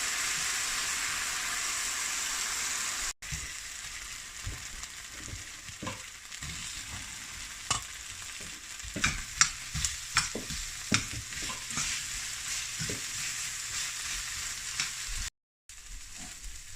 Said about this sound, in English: fry it in a wok like this.